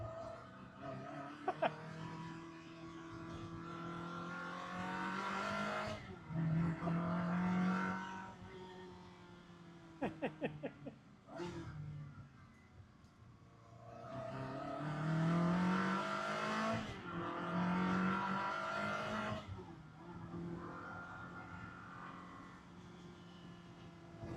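Ferrari 360 Spider V8 engine on the road, revving hard through the gears with rising and falling pitch sweeps, loud and close, with brief gaps at shifts.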